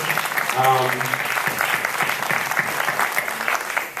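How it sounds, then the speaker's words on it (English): Strong, sustained applause for honorees on stage at the Windy City Times 30 Under 30 awards, with a brief voice or whistle near the start and crowd noise underneath. "Right away with a round of applause for all of our honorees here on stage."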